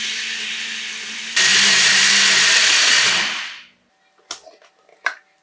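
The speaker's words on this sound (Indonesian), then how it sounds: "haluskan kembali dengan cara diproses blender seperti ini" A blender whirs loudly and steadily for about two seconds, pureeing a green chocolate filling for a budget Dubai-style chocolate made without pistachio, then winds down and stops, followed by a few light clinks.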